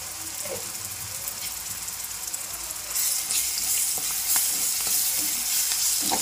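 Mutton with fenugreek leaves and turmeric frying in oil, giving a steady loud hiss and crackle with occasional stirring scrapes, which grows brighter and stronger midway and continues without talk.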